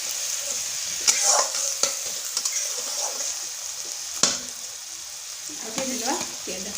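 Onion and keema sizzle in a pan for egg keema masala, a steady close frying hiss broken by scraping stirs and occasional louder clatters of the spoon against the pan.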